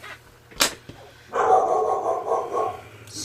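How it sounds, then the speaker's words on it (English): A dog gives a sharp bark, then a drawn-out whining yelp follows, fairly close and loud in an otherwise quiet room. "Excuse my dog, she does this every video."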